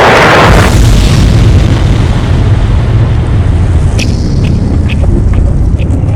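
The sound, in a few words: meteor impact explosion sound effect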